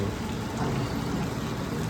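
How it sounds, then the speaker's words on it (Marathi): Continuous, fairly faint patter of rain falling on surfaces, a dense even hiss with no voices, during a hailstorm in a rural area. "पाऊस आणखी जोरात येऊ शकतो"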